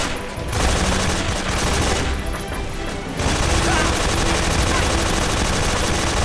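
Sustained gunfire in Metal Gear Solid 3: Snake Eater on PS3, a dense continuous rattle of machine-gun shots with brief dips, loud and close throughout with a voice faintly underneath.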